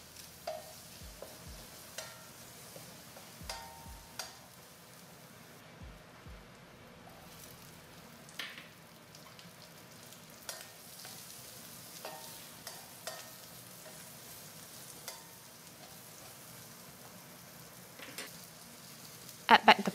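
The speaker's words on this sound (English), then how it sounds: "ginger and shallots. Fry until fragrant." Ginger and shallots fry in a wok with a steady soft sizzle, broken by repeated light scrapes and clinks of stirring throughout.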